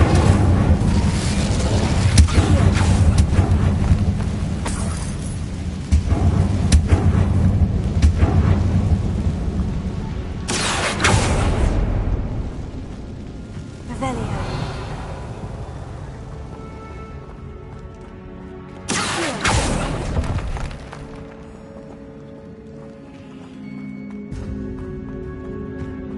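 Incendio fire spells cast in the video game Hogwarts Legacy: loud roaring blasts and crackling bursts, a few sharp sudden flares standing out over a rumbling, dense combat background that fades near the end.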